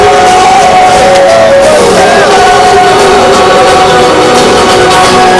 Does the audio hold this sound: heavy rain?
no